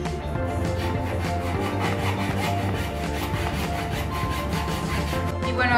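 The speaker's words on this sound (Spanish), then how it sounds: "vamos a tener que hacer un corte de esta madera" Steady, continuous rasping of a saw cutting through a wooden board for a homemade table, dense and close-up with a repetitive stroke texture running throughout, no voices.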